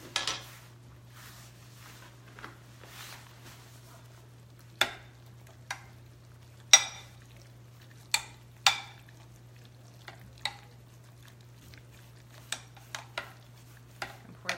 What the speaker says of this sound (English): So give that a good stir